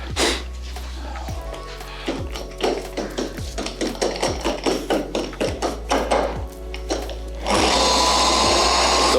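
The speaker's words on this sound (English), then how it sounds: "start to polish." Dual action polisher working on BMW M4 paintwork, with a steady low motor hum under a run of rhythmic tapping knocks, then a louder whirring surge near the end as the machine speeds up.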